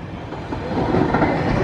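A KRL electric commuter train passes close by, with a steady, dense rumble and clattering wheels on the rails that swell slightly as it goes. No voices are heard.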